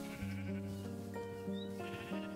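A sheep bleats in the survival game Ocean Survival, several wavering calls in a row, clear and close with no talk over them.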